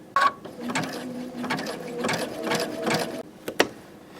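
A sewing machine stitches a button onto fabric in quick mechanical bursts of needle clatter with short pauses between runs, close and fairly loud, no voices.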